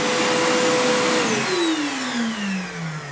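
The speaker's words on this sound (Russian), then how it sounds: "Включаю пылесос на выдувание" A vacuum cleaner set to blow air drives a small Feynman sprinkler turbine, giving a loud, steady roaring whoosh whose motor whine drops in pitch.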